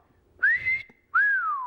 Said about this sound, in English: That's called the Wolf Whistle.